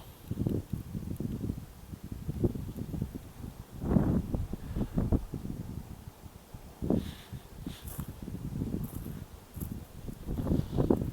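Steady wind gusting and buffeting the microphone at a beekeeping pavilion, with rustling bursts rising and falling throughout; no talking.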